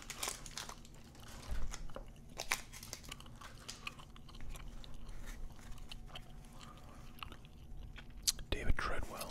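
Gum chewing close to the mic, moist rhythmic smacks and clicks throughout, alongside soft whispering and occasional crinkling of a card pack wrapper.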